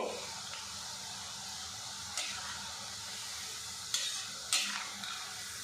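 Pulao rice being fried lightly in oil with palm fruit for a sweet palm pulao, a low steady sizzle broken by a few brief scraping stirs, close and fairly quiet.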